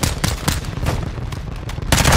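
Gunfire in Call of Duty Modern Warfare 2 cracks out as a rapid, loud volley of close shots over a few seconds, with a heavier burst at the end.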